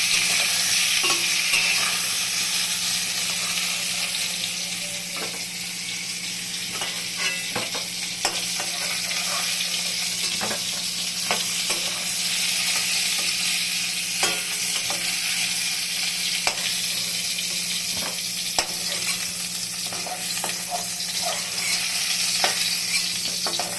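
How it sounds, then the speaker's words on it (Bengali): Pointed gourd frying in oil in a wok, a constant close sizzle with repeated scraping clicks of a spatula stirring and turning the pieces, steady and alone without voices. "সব পটলগুলো আমার ভাজা হয়ে গেছে।"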